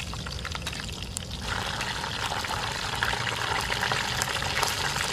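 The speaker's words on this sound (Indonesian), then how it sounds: "Ayam goreng digoreng." Fried chicken sizzles and crackles steadily in hot oil, a dense close-up frying hiss with scattered pops, outdoors in a forest.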